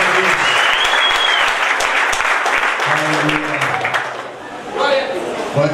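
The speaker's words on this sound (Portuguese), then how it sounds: "Vocês podem aplaudir o Senhor por aqui." A crowd applauds loudly and continuously, with voices and cheers mixed in. The clapping thins briefly near the end before picking up again.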